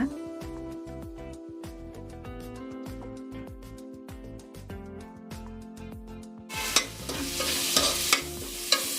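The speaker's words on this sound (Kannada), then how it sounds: "ಇವಾಗ ನಾವು ರುಬ್ಬಿಟ್ಟಿರೋ ಅಂತ ಮಸಾಲೆನ ಹಾಕೊಳ್ಳೋಣ" Ground masala for egg biryani hits hot oil and is stirred, a loud bright sizzle with a few spoon clanks arriving in the last few seconds after a stretch of background music.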